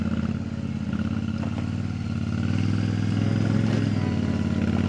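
A motorcycle rides through icy potholes on a mountain road in Ladakh, its engine running loud and steady throughout with rising revs and some clatter, close by and with no talking.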